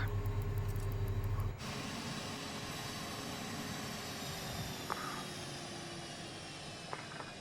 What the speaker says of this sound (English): turn off the engines.